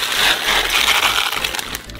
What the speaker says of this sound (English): pour 1 kilogram of buckwheat into a saucepan